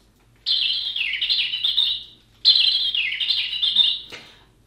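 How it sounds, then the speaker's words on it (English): Real recorded birdsong from a children's toy plays in two loud, close bursts of rapid warbling and twittering, split by a short gap and ending with a small click, with no voices. "Now they're real bird sounds, so they're not as annoying as the sort of electronic I'm a baby toy thing that I don't like."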